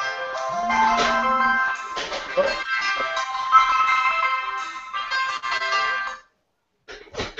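A cell phone ringtone plays a bright electronic melody for about six seconds, loud and alone, then stops briefly before a short burst resumes at the end.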